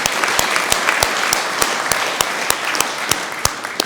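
Audience applause for the party president at a National Party gathering: steady, dense clapping from a crowd with sharp individual claps standing out throughout, loud and continuous.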